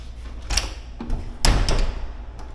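A hotel room door fitted with a door stopper opens and closes in a few close, solid knocks and thuds, with short pauses between them, with no talking.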